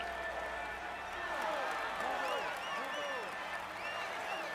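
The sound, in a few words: crowd applauding stage winner in cycling video game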